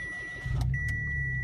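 A 2015 Mitsubishi Mirage small car engine starts by keyless push-button inside the cabin: a brief electronic tone, then a quick crank and the engine catching into a low, steady idle hum, fairly quiet.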